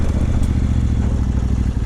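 A Kove 800 X Pro motorcycle brakes hard on the front brake, a loud, throbbing engine rumble with a pulsing low beat and a rough mechanical clatter across the short stop.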